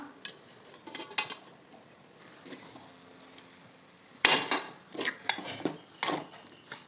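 A spoon scrapes and clinks against a pan as curry leaves and tomato rice are stirred, with sparse metallic knocks early on and a denser run of clattering strokes in the second half, fairly close, no talking.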